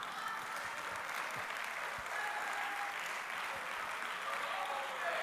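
Steady applause from a large audience at a Hindi poetry recital, continuous and even throughout, with a faint murmur of voices underneath.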